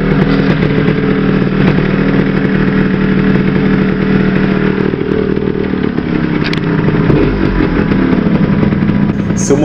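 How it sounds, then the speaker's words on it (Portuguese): A 1976–1980 Yamaha RS 125 two-stroke single-cylinder 123 cc motorcycle engine with a 24 mm Mikuni carburetor runs steadily at close range, a buzzy, raspy drone that holds even throughout with slight fluctuations. "Seu motor é um dois tempos monocilíndrico de 123 cilindradas"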